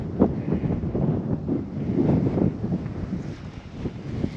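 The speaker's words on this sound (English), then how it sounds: "we're not quite out of the wind here" Gusty wind buffets the microphone at the back of a hilltop monument on the highest point of a ridge in Wentworth, a steady low rumble that swells and eases in waves, with no talking.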